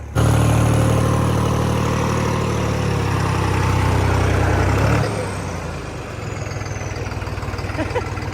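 A tractor engine idles with a loud, steady diesel chug that drops noticeably in level about halfway through, then carries on as a quieter, even rumble.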